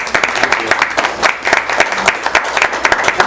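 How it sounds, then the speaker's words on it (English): Audience members at a school board meeting clap for the teachers, a loud, dense round of applause from a nearby crowd that carries on steadily. "So we should just give the teachers a round of applause"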